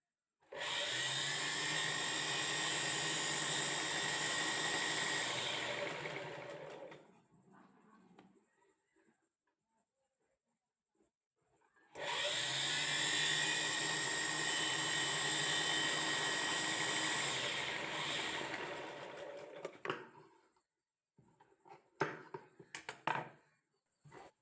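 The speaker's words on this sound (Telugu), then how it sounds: "ఇది ఇక్కడ పైన పెట్టేసుకొని ఒక స్టిచ్ వేసుకోవాలి." Domestic sewing machine running steadily as it stitches thread piping onto fabric, two long continuous whirring runs of about six and eight seconds separated by a quiet pause, ending with a few handling clicks.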